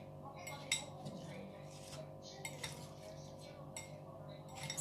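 Mayonnaise being mixed into homemade potato salad: faint, scattered clinks and taps of a spoon against a bowl over a low steady background hum.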